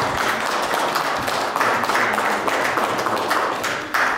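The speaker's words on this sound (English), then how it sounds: "Please give them another round of applause." Audience applause for guest speakers John and Sharon from the Gideons at a church gathering, a steady wash of many hands clapping throughout, fairly loud and even, with no talk over it.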